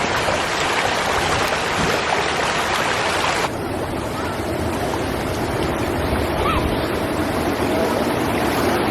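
River water rushes steadily nearby, a loud continuous broadband roar of flowing current with no pauses.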